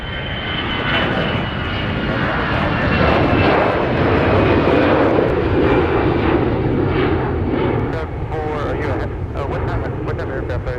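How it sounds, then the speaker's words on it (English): A jet airliner powers up for takeoff on runway 30 right at Minneapolis–Saint Paul airport, its engine roar steady and loud throughout, swelling slightly midway before easing off a little near the end. "Runway 30 right, cleared for takeoff."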